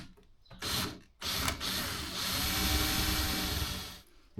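A power drill with a 2.5mm bit whirs up in short bursts, then bores steadily into softwood with a grinding whine before cutting off.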